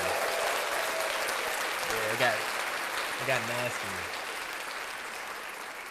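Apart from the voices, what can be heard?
applause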